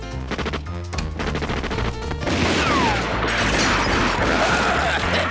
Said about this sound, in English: Pretty fireworks.